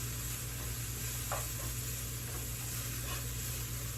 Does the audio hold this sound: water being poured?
no